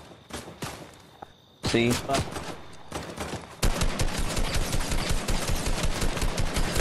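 Gunfire in Fortnite starts as scattered shots, then turns into a loud, continuous rapid-fire stream of close, rattling bursts, with a brief voice speaking near the start.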